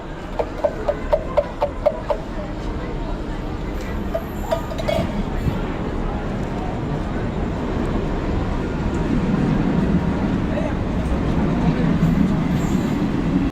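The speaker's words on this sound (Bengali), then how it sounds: "নৈহাটি স্টেশনের তিন নম্বর প্ল্যাটফর্মে পৌঁছালো আমাদের গন্তব্যের ট্রেন" A Sealdah–Krishnanagar local train rumbles into platform 3 at Naihati station, its low roar swelling steadily after a few sharp metallic clicks at the start; loud and close, with no clear speech.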